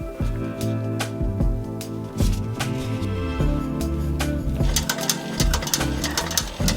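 A sewing machine stitches a leather bag with uneven mechanical clacks and ratcheting bursts, stopping and starting, then a quicker run of stitches toward the end, close and clear.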